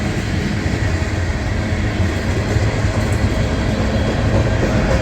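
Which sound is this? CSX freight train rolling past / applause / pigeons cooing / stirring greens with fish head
CSX freight train rolling past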